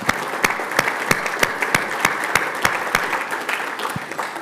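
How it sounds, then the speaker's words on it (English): An audience at a salt summit claps steadily, a dense patter of hands with sharper individual claps standing out, sustained throughout at close range. "let's give them all another round of applause"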